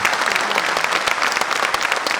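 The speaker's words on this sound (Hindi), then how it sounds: "जोरदार तालियों से उनका स्वागत करें, अभिनंदन करें।" Loud, dense applause from a large university audience welcoming India's Defence Minister Rajnath Singh, sustained without a break.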